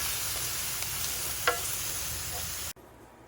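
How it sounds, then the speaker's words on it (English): Ground meat browning in a skillet, a constant close sizzle with an occasional scrape of the spoon, cutting off abruptly near the end. "we're just gonna continue doing this until the meat gets all browned up and cooked all the way through"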